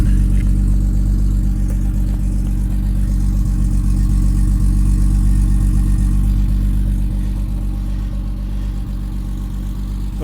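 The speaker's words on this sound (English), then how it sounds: "There's that new Moss Tourist Trophy exhaust." A 1973 Triumph TR6 running through a Moss Tourist Trophy exhaust, a loud, steady deep engine note held close up, idling with slight revving and easing off slightly toward the end.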